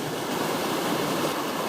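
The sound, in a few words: small waterfalls on North Fork of Calaveras River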